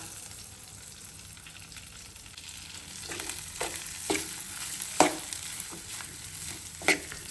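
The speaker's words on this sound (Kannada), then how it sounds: "ಕ್ಲೀನಾಗಿ ಬಿಸಿ ಮಾಡಿ ಮಿಕ್ಸ್ ಹೊಡೆಯೋಣ" Leftover pulao is reheated and stirred in a pan, a steady low sizzle with several distinct scrapes and knocks of a spoon against the pan, close and fairly quiet, no talking.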